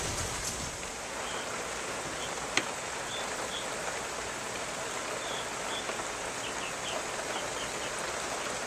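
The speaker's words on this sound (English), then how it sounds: "The rain is steadily falling today from this tropical system." Steady, even rain hisses from tropical storm Nicole in Okeechobee, Florida, one continuous wash of drops with faint bird chirps and a single sharp tick in the background.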